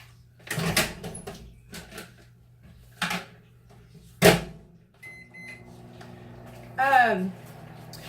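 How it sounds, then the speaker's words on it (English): A microwave oven hums steadily while cooking a cake, with a few clunks and knocks, a door shutting and a short rising beep near the end; someone speaks briefly at the start. "So I'm going to put each of these in the microwave individually"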